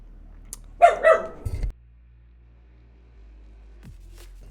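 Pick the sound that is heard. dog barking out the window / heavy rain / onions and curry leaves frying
dog barking out the window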